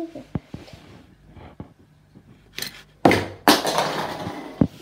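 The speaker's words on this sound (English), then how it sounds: "There's the box of cars that fell down." A box of toy cars falls and scatters, giving a series of clattering, crashing impacts with a loud burst of tumbling plastic and metal pieces near the end.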